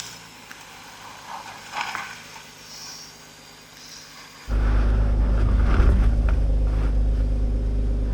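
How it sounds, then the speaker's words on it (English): A BMW crawls off-road with low engine rumble, then a sudden loud surge as throttle is applied against the brakes, the engine droning heavily and steadily up close. "What I'm doing is applying throttle while also using the brakes."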